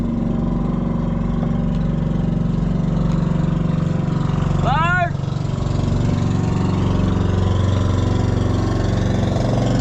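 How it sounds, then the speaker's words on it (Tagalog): A passing fishing boat's motor drones loudly and steadily throughout, and a single short shout rings out partway through. "Nagdaan yung isang bangka mga idol"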